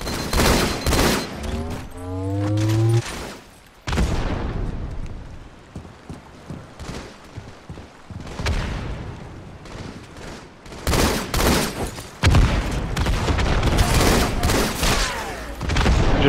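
Loud, dense volleys of gunfire in a multiplayer shooter video game, with sharp shot bursts and booming impacts coming in clusters separated by quieter stretches.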